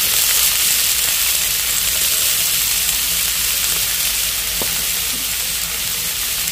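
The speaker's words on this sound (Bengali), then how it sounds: "তেলে দিয়ে দিচ্ছি পেঁয়াজ কুচি, কাঁচা লঙ্কা কুচি," Chopped onion, green chili and capsicum fry in a little white oil, giving a loud, dense, continuous sizzle close up, with an occasional faint stir or clink and no talk.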